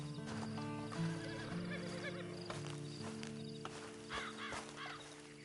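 A horse in Red Dead Redemption 2 whinnies and snorts over a layered game soundscape with steady tones and distant calls, and there are a few louder vocal bursts near the middle and end.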